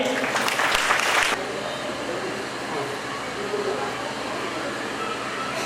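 An audience at a Mahashivpuran religious discourse event applauds briefly and loudly for about a second, then the clapping drops away into a murmuring room ambience.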